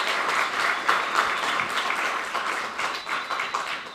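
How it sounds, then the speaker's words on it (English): An audience at a conference on gun and gang violence gives a round of applause: dense, steady clapping from many hands in a hall, moderately loud and sustained throughout, with no talking over it. "so would you please give them a round of applause."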